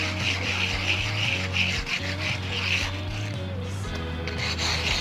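A rub brick grinds across concrete while building a DIY skate spot, producing a continuous, gritty abrasive scraping that stays steady and close for the whole stretch.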